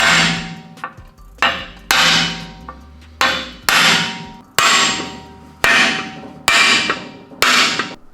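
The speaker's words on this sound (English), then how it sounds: "So nothing a little bit of a hammer job won't fix." A hammer strikes a rubbing brake part on a Toyota Hilux, with nine sharp, loud metallic blows at a fairly steady pace, each ringing briefly before the next.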